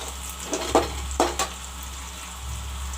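Onions frying in a pan for chicken curry, a soft low sizzle under steady background hum, with a few sharp stirring clinks near the start.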